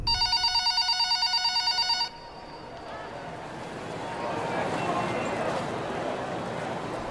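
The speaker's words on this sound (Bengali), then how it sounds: "টেবিলের উপর রাখা ফোনটা বেজে উঠল শব্দ করে" A telephone rings in a rapid electronic trill for about two seconds, then stops, leaving a steady background hum and murmur.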